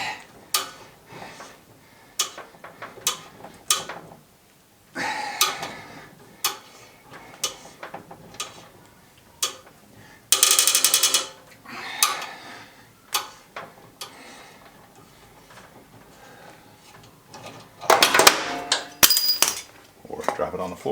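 Tap cutting threads into a cheap nut: irregular metallic clicks and scraping ratchets in short bursts, close and fairly loud, with a louder grinding rasp partway through and another near the end.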